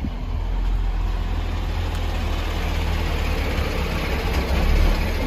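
A truck's heavy diesel engine rumbles at a steady idle as it arrives at a house, a loud, continuous low drone with a slight swell near the end and no talking.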